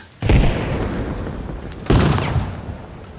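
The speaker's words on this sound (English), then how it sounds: "That was them throwing or shooting frags back." Frag grenades explode in the military shooter game ARMA Reforger: two loud, deep booms about a second and a half apart, each trailing off in a rumbling roll.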